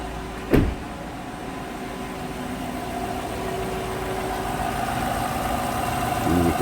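2015 GM truck engine idling steadily with the AC compressor belt spinning while the compressor stays disengaged, a short knock at the start, then an even mid-low drone throughout.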